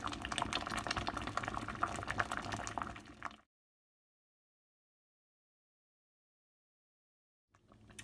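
A pot of Quaker oats with apples simmers on the stove, a soft steady bubbling and sizzling for a few seconds before cutting to silence.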